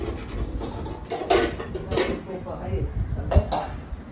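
A metal wok set down on a home kitchen stove while making vada pav, giving a few clanks and scrapes of cookware at close range, with soft background noise and no distinct speech.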